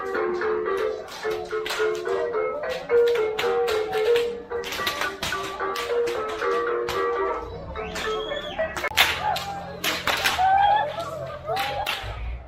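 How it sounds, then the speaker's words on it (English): Whips crack repeatedly during the Saleyudos Dance festival in Almolonga, Guatemala, as sharp, loud snaps arrive in irregular bursts among yipping voices and a busy crowd. "The dance is comprised of participants yipping and whipping each other."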